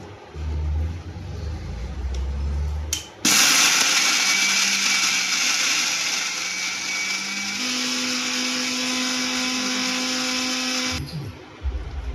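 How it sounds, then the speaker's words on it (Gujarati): A mixer grinder whirs loud and steady for about eight seconds, grinding cooled paneer tikka masala paste in a cup. Brief kitchen clatter comes before it starts, and the motor cuts off cleanly at the end. "હવે આપણે ઠંડુ થઈ ગયું છે મસાલો, એને આપણે કપમાં કાઢી અને પીલીશું"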